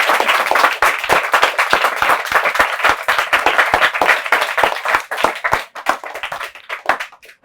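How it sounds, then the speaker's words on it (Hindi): A small audience claps in loud, close, distinct bursts, the rhythm irregular and thinning toward the end as individual hand claps stand out before fading. "जोरदार ताली हो जाए भाई।"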